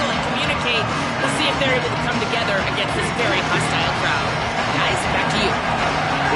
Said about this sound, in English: We'll see if they're able to come together against this very hostile crowd.